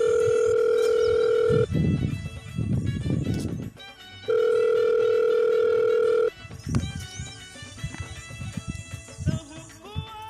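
A steady electronic telephone tone sounds in two long bursts, broken by a stretch of louder voices, then people keep talking with background clatter.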